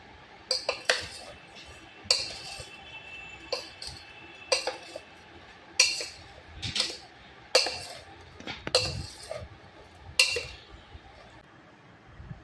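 A utensil stirs and mixes spiced green jackfruit pickle in a bowl, with repeated sharp clinks and scrapes at an irregular rhythm, close and fairly quiet, against a faint background.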